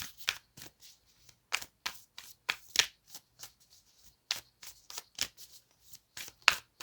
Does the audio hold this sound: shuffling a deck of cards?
yes